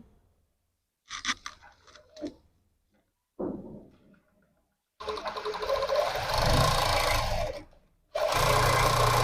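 A sewing machine stitching a blouse, with a few short stop-start runs followed by longer, loud continuous whirring passes of the needle, broken by one brief pause.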